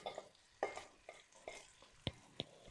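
Green chilies, cabbage, capsicum and carrot are stir-fried for chicken chow mein, giving a soft background sizzle broken by several sharp stirring scrapes and taps of utensil on pan.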